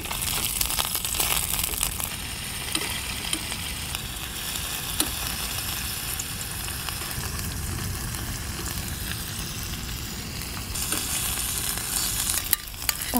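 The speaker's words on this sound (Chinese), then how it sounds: "先煎个虾" Shrimp fry in a nonstick pan while a wooden spatula stirs them: a continuous close sizzle with soft scraping and shuffling strokes throughout, with no talking.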